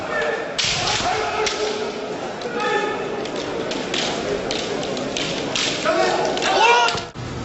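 Kendo blows land during a grading examination, with repeated sharp bamboo-sword strikes and thuds mixed with shouting from the competitors in a busy, echoing hall.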